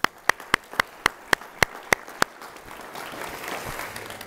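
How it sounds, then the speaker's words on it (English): At the 2020 Columbiana mayoral forum, the audience claps for the candidates: about ten crisp, evenly spaced claps ring out first, then dissolve into a soft, dense patter of scattered applause. "Let's give them a round of applause."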